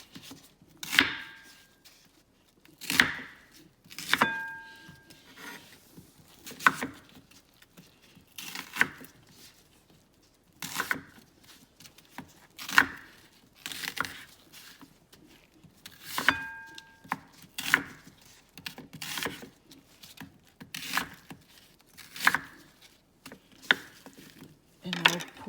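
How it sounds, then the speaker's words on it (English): A knife chops an onion into big chunks on a cutting board, with sharp, crisp cuts in uneven clusters and short pauses between them, close and alone. "First of all, I will chop the onion in a big chunk."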